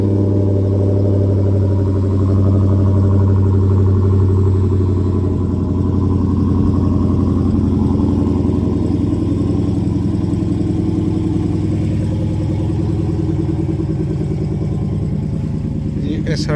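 A 2016 Dodge Challenger SRT Hellcat with a 5.0 engine holds a steady, deep, throbbing rumble close by for the whole stretch. The note stays even, with no sharp rev spikes.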